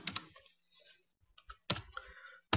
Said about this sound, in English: I have to click on it.